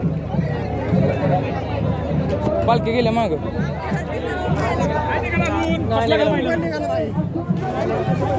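Dense crowd hubbub at the Bavdhan Bagad Yatra festival in Maharashtra, many voices chattering and calling close by in a continuous, busy babble, with a person speaking over it.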